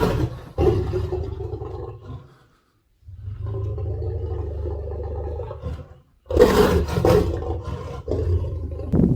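A lion roars loudly and close up in several long, rumbling, growling bursts with short pauses between them, the final burst the harshest and most intense.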